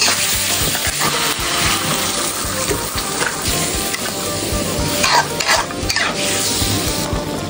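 Chicken stir-fried in a pan with curry paste, oyster sauce, coconut sugar and fish sauce, a loud continuous sizzle with repeated scraping stirs of the spatula, close up.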